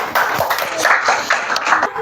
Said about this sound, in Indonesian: berikan tepuk tangan untuk Aditya